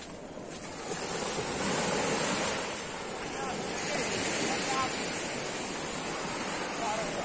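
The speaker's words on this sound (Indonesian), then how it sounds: "Iya, pantai." Ocean waves wash onto the beach at Pulau Karang, a steady broadband surf roar with gentle swells and some wind noise on the microphone, continuous throughout and heard alone.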